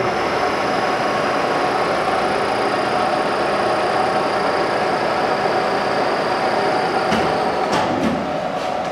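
A SIP vertical jig boring mill runs steadily at 100 RPM, giving a continuous, even mechanical hum and rumble with no pauses. A few faint clicks land near the end.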